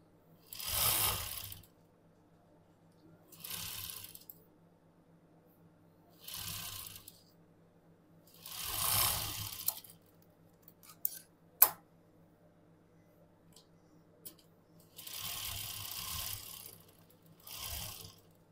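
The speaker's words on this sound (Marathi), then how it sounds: "आता इथून टीप मारायची आहे." A sewing machine runs in several short stitching bursts as a girl's umbrella frock is sewn, each run lasting about a second with quiet gaps and small clicks between them, close and fairly soft with no voices.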